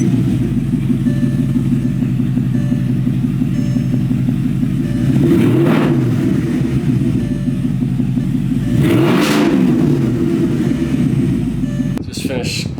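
Porsche Cayenne engine fitted with secondary cat bypass pipes, idling with a steady low drone and rising into two brief revs, heard up close.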